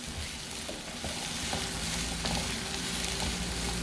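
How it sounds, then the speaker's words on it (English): Carrots and green beans frying in hot groundnut oil for Nigerian fried rice, a steady close sizzle with a few faint clicks of a utensil against the pan, no talking. "Then start to fry."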